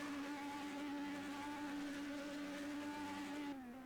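Formula B open-wheel race car engines from the Project Cars racing game, a steady high-revving buzzy drone that holds pitch throughout, then drops slightly near the end as the revs fall.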